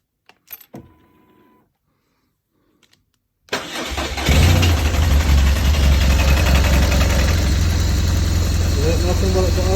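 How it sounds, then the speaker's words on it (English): A few faint clicks and a brief quiet pause, then a BMW R1200GS K25 motorcycle engine cranks and catches, settling into a loud, steady, throbbing idle. "Now we're going to start the bike."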